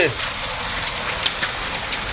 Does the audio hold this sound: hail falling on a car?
yes